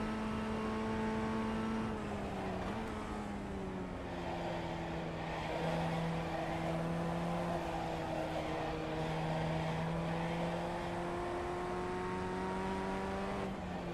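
A race car in the iRacing simulator approaches a medium-braking right-hand turn, its engine a continuous droning tone whose pitch dips briefly early on and then holds fairly steady.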